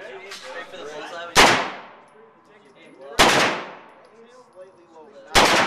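Gunshots at an outdoor shooting range ring out as three sharp, loud reports about two seconds apart, each leaving a ringing decay, with a person talking quietly between the shots.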